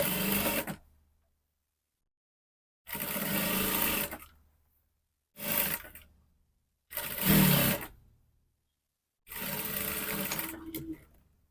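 A sewing machine stitching fabric pieces of a children's ball dress runs in five separate bursts of steady whirring, each lasting one to two seconds, with pauses of silence between them.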